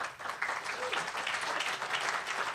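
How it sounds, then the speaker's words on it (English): An audience at a park and public lands advocacy day gives warm applause, a full and steady roll of clapping from many people that holds at a moderate level for a couple of seconds with no speech. "give her a warm applause"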